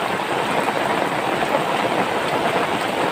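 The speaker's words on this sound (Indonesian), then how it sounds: "Hujan euy." Steady rain falls in a rural village, a broad continuous rushing hiss of drops on the ground and roofs, unbroken and moderately loud with no voices.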